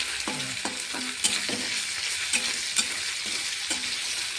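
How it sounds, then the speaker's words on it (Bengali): Ginger and garlic sizzle in hot oil alongside onion and bay leaf, a steady hiss broken by repeated knocks and scrapes of a spatula stirring the pan. "তো আদা রসুন দিচ্ছে। তা গরম হয়ে গেছে, গরম হয়ে গেছে।"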